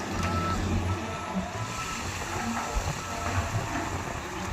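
Truck being loaded with coal at Navlakhi port, a steady loud industrial rumble of heavy machinery with a repeating reversing beeper and engine noise running throughout.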